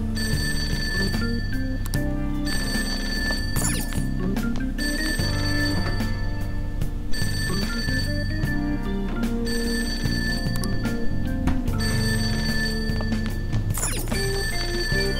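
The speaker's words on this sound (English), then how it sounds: "Oh, there's the phone." An in-game telephone in Persona 5 rings in repeated bursts with brief gaps between them, clear and steady under soft background music, with no talk.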